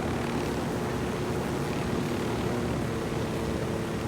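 Helicopter in the video game Ghost Recon Wildlands, a steady, dense rotor and engine roar holding at an even level throughout without pause.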